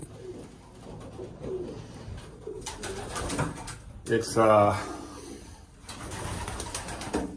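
Pigeons cooing inside an old bird loft, several soft throaty coos with a louder burst near the middle, close by, while someone speaks briefly over them.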